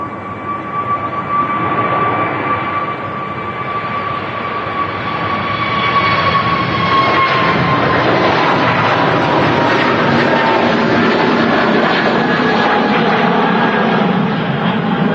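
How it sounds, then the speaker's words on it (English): An Airbus A320neo takes off from Manchester Airport bound for Paphos, its engine roar building into a loud, steady broadband rumble with a sustained whine riding over it, growing stronger and filling the scene throughout. "The A320neo heading off to Paphos."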